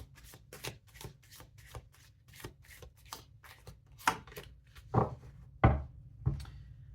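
Tarot cards are shuffled by hand in a quick run of crisp riffling flicks, followed by a few louder, sharper snaps as cards are pulled and drawn, close and quiet with no talking.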